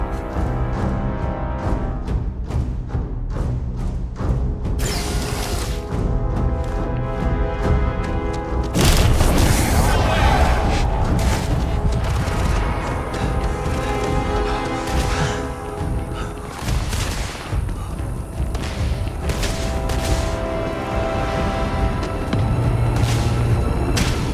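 Starfield gameplay erupts in continuous gunfire and booming explosions, dense and loud throughout, with heavy thuds and crashes layered over a constant rumbling backdrop.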